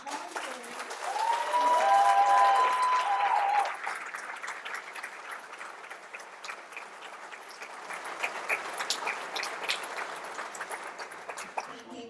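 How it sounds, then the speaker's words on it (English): A theater audience at a community forum claps warmly for volunteers; the applause swells early with a brief whistle in it, then settles into a sustained, slightly thinner patter that lifts again toward the end. "And if everybody will give a round of applause to these amazing individuals and volunteers."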